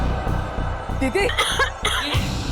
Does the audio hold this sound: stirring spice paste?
no